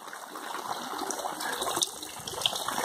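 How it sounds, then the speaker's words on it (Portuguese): Heavy rainwater rushes down a street into a storm drain in Cacimba de Dentro, Brazil, a dense broadband gush with trickling splashes, close and continuous throughout. "Essa água toda tá indo pra bueira, lá na frente, ó."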